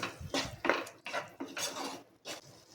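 Spoon stirring raita ingredients in a bowl, with cucumber, tomato, black salt, Kashmiri red chilli and chilli flakes, giving repeated close scraping and clinking strokes in an irregular rhythm, alone without talk.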